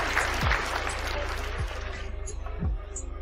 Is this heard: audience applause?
yes